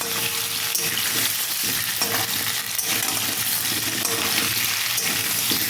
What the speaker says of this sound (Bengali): এইভাবে কিন্তু আলুটা ভাজতে থাকবো আমি